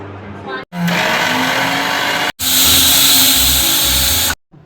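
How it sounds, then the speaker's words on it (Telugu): Mixer grinder whirring through green chillies and peppercorns in a home kitchen, two loud bursts of grinding of a couple of seconds each, split by a short pause, with a brief spoken remark at the start. "రెండు పచ్చిమిరపకాయలు రెండు మిరియాలు మిక్సీ పట్టుకోవాలన్నమాట"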